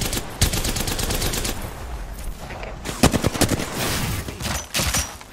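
Rapid bursts of automatic gunfire in the video game Apex Legends crackle loudly, interrupted by a few sharper single shots, with no voices.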